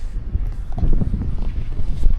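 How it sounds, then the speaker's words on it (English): Gusty wind buffets the microphone with low, uneven rumbling bursts, loud and close throughout. "It's windy out here, people."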